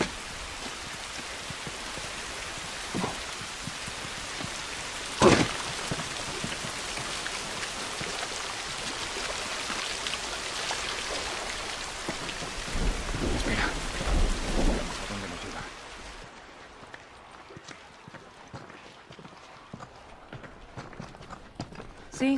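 Steady rain hisses through a stormy scene in The Last of Us, with a sharp crack of thunder partway in and a deeper rumble later, before the downpour suddenly drops away to quieter ambience.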